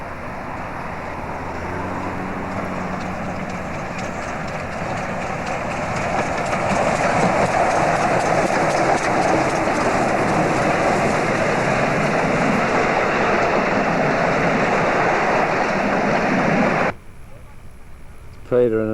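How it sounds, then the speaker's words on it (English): South Australian Railways 621 steam locomotive and train passing through wheat country near Arkona in the Victorian Mallee, a loud continuous rumble and clatter building as it nears, then cutting off abruptly near the end. "Peter and another photographer there waiting for the train."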